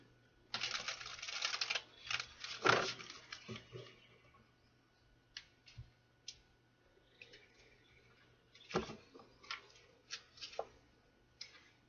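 Tarot cards are shuffled in a few soft riffling bursts, with scattered taps and clicks of the cards between them, close and quiet against a low hum.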